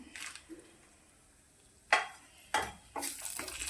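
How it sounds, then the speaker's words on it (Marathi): Finely chopped cashews and almonds fry in hot ghee over a low flame, with scattered spoon scrapes and stirring clatter against the pan and a soft sizzle building toward the end. "तर बारीक केलेले काजू बदाम आपण फ्राय करून घेऊया"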